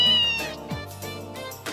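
A cat in the video game Trails in the Sky gives a short meow, then a couple of softer follow-up mews amid quiet game music, close and clear.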